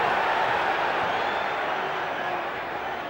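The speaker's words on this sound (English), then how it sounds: "Some of the crowd furious with that" A football crowd at a Bristol Rovers versus Swindon Town match roars angrily at a challenge, heard as a broad, sustained wash of stadium noise that fades slightly toward the end, with commentary talk over it.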